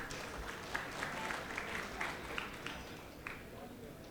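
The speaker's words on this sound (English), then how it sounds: "Please give a huge round of applause" Applause from a seminar audience welcoming a faculty speaker on quant investing in India, a steady wash of many hands clapping at moderate level, with a few sharper claps and faint background voices.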